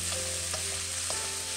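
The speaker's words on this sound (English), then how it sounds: "I'm using a traditional carbon steel wok, which is best for this type of quick stir fry." Chicken sizzles and fries steadily in a traditional carbon steel wok during a quick stir fry, a loud continuous hiss with occasional clinks of the spatula, no talking.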